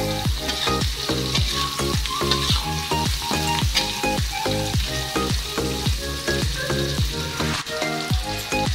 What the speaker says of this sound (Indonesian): lalu kita masukin rempelo ati beserta sosisnya kita aduk lagi